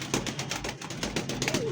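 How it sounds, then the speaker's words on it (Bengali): Pakistani Lahori pigeons of pure U-shape type, cooing softly in a bird market with busy background noise, a faint drawn-out call near the end. "অরিজিনাল পিওর ইউ শেপের পাকিস্তানি লাহোরি কবুতর দেখেন"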